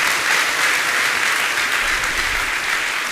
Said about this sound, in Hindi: तालियां आपकी बहुत कमजोर बज रही हैं।